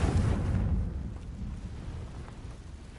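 A Confringo explosive spell blast in the Hogwarts video game, a loud low rumbling burst at the start that decays into a lingering, fading roar.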